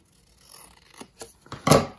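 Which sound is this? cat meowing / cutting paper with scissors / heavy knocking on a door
cutting paper with scissors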